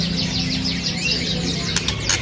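Close, bright chirps and twittering phrases from a spotted magpie robin on sale. The ringed songbird sings continuously with sharp sweeping notes over a low steady hum, and two short bursts come near the end.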